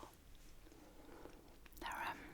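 Close, quiet chewing of a chocolate biscuit in an ASMR eating setting, soft crunching and mouth sounds ending in a brief louder bite or smack.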